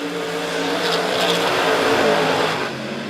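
USRA stock cars roar past on the oval at Monett Motor Speedway during a heat race, a loud, sustained engine drone that rises and falls as the pack passes the front stretch, with no talking.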